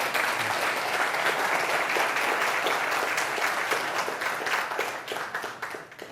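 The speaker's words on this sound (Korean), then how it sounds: "박수 한번 주세요." Sustained audience applause fills the room at an InnoBiz business forum hosted with Changwon National University, a dense, steady clapping that stays loud throughout and thins slightly toward the end.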